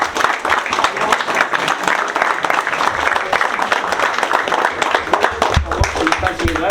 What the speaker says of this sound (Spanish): Si les damos un aplauso al doctor